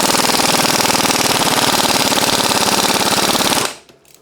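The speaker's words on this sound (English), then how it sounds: "So I'm going to use an air impact wrench because that's incredibly tight." A rapid, loud air impact wrench hammers continuously on a seized bicycle bottom bracket for over three seconds before cutting off abruptly, leaving a near-silent tail.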